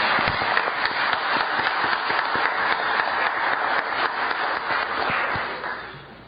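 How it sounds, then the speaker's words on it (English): An audience at a county board of commissioners public meeting claps for Mackenzie, with dense steady applause that fades out near the end. "join me in giving Mackenzie a round of applause for her efforts this summer."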